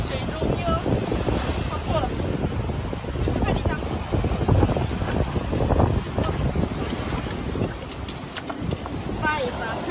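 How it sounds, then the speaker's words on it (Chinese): Sea waves breaking on the shore as a continuous wash of surf mixed with buffeting wind on the microphone, loud and close, with a few faint voices in the background. "今天这个浪花特别的漂亮"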